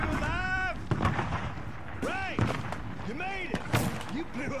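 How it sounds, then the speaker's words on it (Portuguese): Fireworks in the video game Call of Juarez: Bound in Blood send up several whistling rockets that rise and fall in pitch, punctuated by sharp bangs and pops in a busy, repeated barrage. "Oh, adoro esses fogos, mano."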